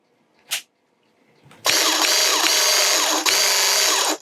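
A Graco Ultra QuickShot airless sprayer pump primes with a loud, steady mechanical whir that starts abruptly, runs with a brief dip near the end and carries on. A short click sounds just before it.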